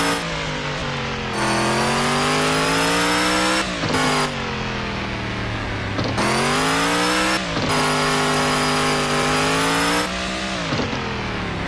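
A Jeep in the off-road driving game Offroad Outlaws, its engine loudly revving up and down in long surges with brief drops between, close and dominant with no talking.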